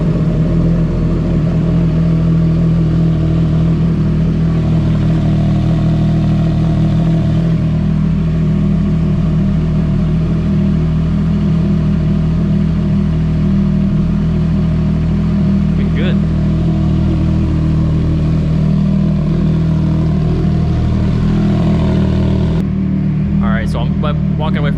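A CFMOTO 675SS sport motorcycle with a freshly installed Team MSC ECU tune idles steadily and loudly up close, a constant low engine drone running for the whole stretch before a brief sharper change near the end.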